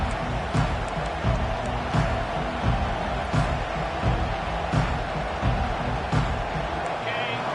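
Alabama football stadium crowd roars in a dense, sustained wash of cheering just after kickoff, with a commentator's voice layered over the distant noise.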